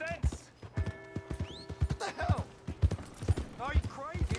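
Horse hooves clip-clop in a steady, irregular walking rhythm in Red Dead Redemption 2, close and fairly quiet, with occasional spoken voice and brief tonal game sounds mixed in.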